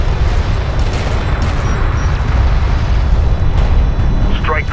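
Strike craft blowing up in the real-time strategy game Homeworld: Deserts of Kharak, a loud, sustained rumbling explosion with heavy low roar running continuously over the whole stretch.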